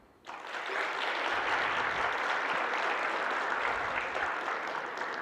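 A large audience at an inaugural session in Mount Abu bursts into clapping all at once, a loud, dense, even roar of applause that holds steady throughout.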